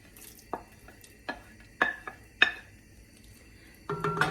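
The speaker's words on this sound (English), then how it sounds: "this is a perfect time to really scrape up the bottom of that pot" A metal utensil scrapes and knocks against the bottom of a pot of split pea soup. There are several separate clinks and scrapes at uneven intervals, close and fairly quiet, with brief pauses between them.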